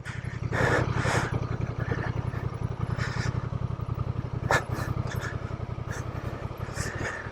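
A Honda Transalp motorcycle ridden off-road in Idaho, its engine running at a steady, pulsing rumble with rattles and clatter from the rough trail, close and continuous throughout.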